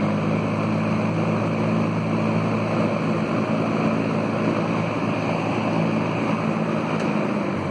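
An Arvin window fan set to super high gives off a steady, dense broadband whoosh with a low hum underneath, loud and close and unchanging throughout.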